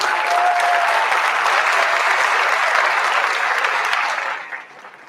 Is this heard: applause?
yes